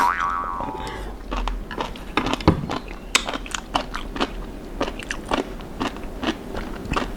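Close-up crisp crunching and biting of a sesame oil jellyfish salad with red chili paste, a string of sharp irregular crackles and squelchy chews, loud and near with no talking.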